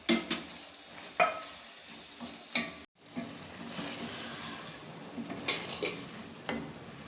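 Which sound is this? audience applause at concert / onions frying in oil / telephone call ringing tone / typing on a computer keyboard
onions frying in oil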